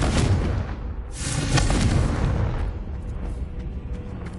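A Confringo fire-blast spell explodes in Hogwarts Legacy, heard as a loud, close, broadband booming burst that swells around the middle and then rumbles away into a fading tail, with no voices over it.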